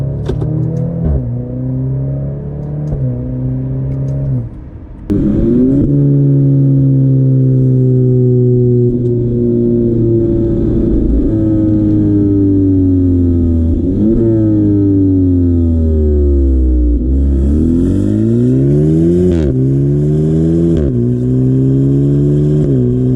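A 2024 Maserati Grecale GT revs loudly up through its gears, then downshifts with sharp blips and pulls hard again. The engine sound is close and continuous, with no talking.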